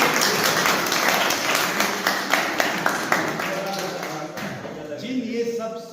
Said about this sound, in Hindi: अरे ताली बजाओ।